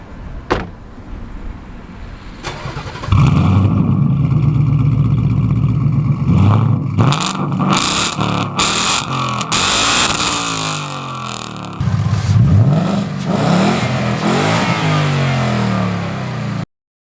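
A 2022 Ford Mustang GT's 5.0L V8 is revved hard in several loud bursts, rising and falling between rumbling idle stretches, heard close with no talking.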